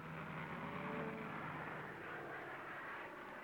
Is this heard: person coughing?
no